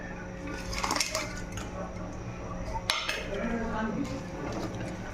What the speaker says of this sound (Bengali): দেখো এবার বড়াগুলো দিয়ে দেবো।